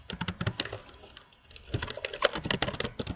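Rapid keystrokes on a computer keyboard while MATLAB code is typed, dense irregular clicks running nearly throughout with a brief lull in the middle, close and clear with no voice.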